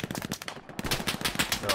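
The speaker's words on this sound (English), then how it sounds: "I hear a Thompson near me." A Thompson submachine gun in the World War II shooter Hell Let Loose rattles in rapid bursts of close automatic fire, with a brief pause between volleys and a voice talking underneath.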